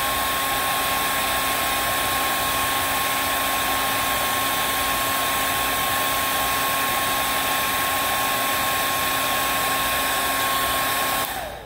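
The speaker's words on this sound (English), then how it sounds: "Just make sure you're not going real close with a blow dryer, especially if it is on a warmer setting." A blow dryer drying a freshly painted ceramic bowl, a steady, loud whirring hum with a constant whine that runs unbroken for about eleven seconds before cutting off abruptly at the end.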